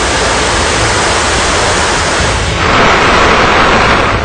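Uncontrolled floodwater of the swollen Narmada river near the Narmada Dam in Gujarat, a loud, dense, continuous roar of rushing water with no voices, slightly shifting in tone midway.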